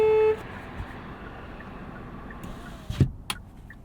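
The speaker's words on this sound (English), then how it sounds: "Let's try the honk test right now." A 2022 Hyundai Kona SE sounds its horn once, a short sharp honk near the end, following a quiet cabin with a brief tone at the start.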